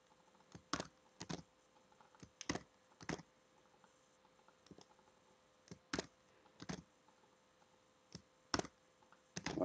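Computer keyboard keys clicking in short, irregular bursts with pauses between, close and fairly quiet, while text is cut and pasted into a table in a document.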